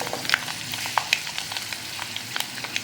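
Dried red chillies fry in hot oil for a tomato kadayal side dish, giving a soft steady sizzle with small sharp crackles and pops scattered throughout.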